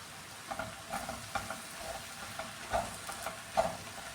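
Kashmiri chilli powder and coriander powder heating in a pan on low flame for beef curry, a faint soft sizzle with gentle intermittent spoon stirs and scrapes, close and quiet.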